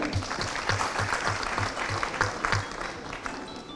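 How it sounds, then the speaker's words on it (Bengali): Applause from an audience at a stage event, a close, steady burst of clapping lasting several seconds before starting to thin. "একটা হাততালি হয়ে যাক"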